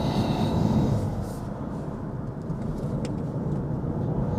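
A Lexus LBX engine at full throttle, heard from inside the car as a steady, loud droning hum over road and wind rumble, holding fairly constant throughout.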